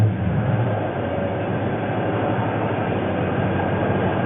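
A 2009 Dodge Challenger with a 5.7L Hemi V8 idles in park, giving a steady, loud, low rumble that stays even throughout with no revving and no talking.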